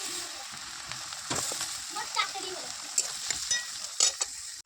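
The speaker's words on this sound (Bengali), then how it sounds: "সাজিনা ডাটাগুলো ভেজে নেবো" Drumstick (moringa) stalks fry in hot oil in a wok, giving a steady close sizzle with scattered crackles and a few louder bursts as the pieces are stirred.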